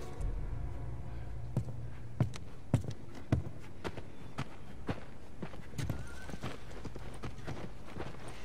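Scattered hoofbeats clop unevenly in The Last of Us Remastered video game, a few sharp knocks standing out against a quiet ambient background, like a horse shifting and stepping slowly.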